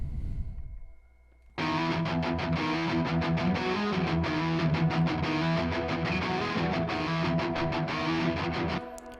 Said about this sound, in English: Then all together, it'll sound like this.